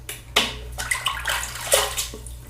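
Water splashes in irregular bursts as hands wet a face with warm water before shaving, with close sloshing and dripping and no talking.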